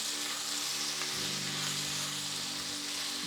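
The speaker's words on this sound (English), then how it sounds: "Just let your chorizo cook a little bit." Chorizo fries in a pan with a steady, dense sizzle and crackle, close and continuous throughout, no talking over it.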